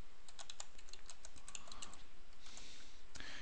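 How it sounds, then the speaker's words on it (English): Quick bursts of keystrokes on a computer keyboard as a web address is typed into a browser, followed by a heavier key press, close but quiet over a faint background hiss. "we can type in localhost and hit enter"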